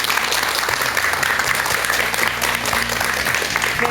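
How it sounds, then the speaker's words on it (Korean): A studio audience at a Korean television lecture on alcoholism applauds the doctor, loud sustained clapping from many hands with a faint low tonal hum running underneath. "박사님께 큰 박수 한번 부탁드리겠습니다"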